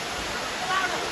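A natural mountain waterfall gives a steady, dense rush of falling water, continuous and fairly close, with no other clear sounds.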